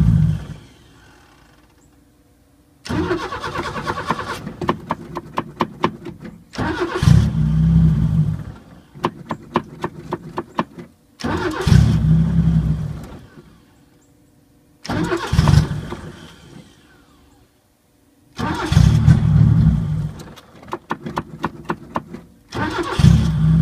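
A 1980 Chevy Luv with a plugged carburetor, running only off the accelerator pump, cranks and catches repeatedly: six bursts of starter whir and rough revving, each dying to silence before the next attempt.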